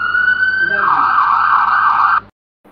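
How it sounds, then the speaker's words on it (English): A loud electronic ambulance siren wails in a steady high tone that shifts pitch partway through, then cuts off abruptly into silence. "Ambulance."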